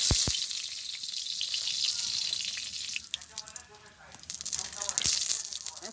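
Two bay leaves dropped into hot oil in a village kitchen pan, a bright continuous sizzle and crackle that swells and settles, with a voice speaking over it in places.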